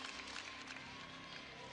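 Georgia fans standing and cheering in a compact, loud arena at the 2003 SEC gymnastics championships, a steady far-off crowd roar with scattered applause, faint and continuous.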